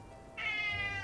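A silver cat meows insistently in a single long, close, moderately loud cry that rises in and holds steady, with no talking over it.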